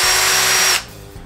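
A Bosch PSR18 Li-2 cordless drill whirs loudly at close range in one short burst, then winds down and stops after under a second.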